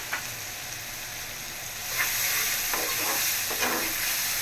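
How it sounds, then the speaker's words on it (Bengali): Sliced onions fry in hot oil in a pan as the base for a Bengali fish bhuna, a steady broadband sizzle that swells louder midway, broken by a few soft scrapes of stirring. "আর এই তেলের মধ্যে এখন আমি পেঁয়াজ দিয়ে দিতেছি মাছটা ভুনা করার জন্য"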